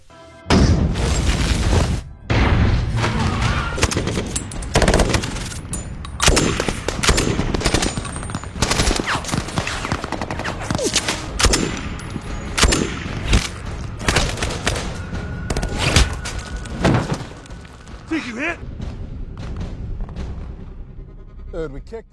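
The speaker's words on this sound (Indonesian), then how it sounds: "Dan aksi tembak-tembakan pun dimulai." Heavy battle gunfire in a war film: rapid automatic bursts and booming shots rattle almost continuously, loud and close, with chaotic overlapping blasts.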